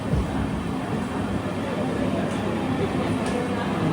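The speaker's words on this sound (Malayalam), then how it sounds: "വടകര സ്റ്റേഷൻ ഇങ്ങനെ ഇതാ സ്കിപ്പ് ചെയ്യുകയാണ്." The Mangaluru–Rameswaram Express runs through Vadakara station without stopping, heard from inside the train as a loud, continuous rolling rumble.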